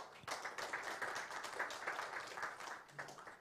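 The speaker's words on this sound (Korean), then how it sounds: "비록 영상이긴 하지만 안봉락 이사장님을 큰 박수로 모시도록 하겠습니다." An audience at a forum opening ceremony claps in steady, moderately quiet applause to welcome a speaker, with no talking over it.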